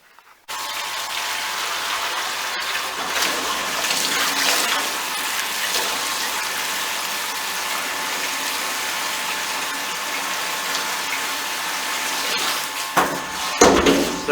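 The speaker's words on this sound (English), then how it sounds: "connect another pipe to the cold liquor tank now and run some cold water into here" Cold water from a cold liquor tank runs through a pipe into a home-brewing tank, a steady loud gushing rush that starts abruptly and continues evenly before a few knocks and clunks near the end.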